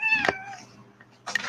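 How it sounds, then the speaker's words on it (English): A house cat meows loudly right behind a computer, one drawn-out cry followed by a shorter second meow after a brief pause. "that was a cat behind my computer"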